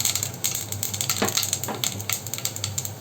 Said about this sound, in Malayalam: ഉലുവയും കടുകും പൊട്ടി വരുന്ന സമയത്ത്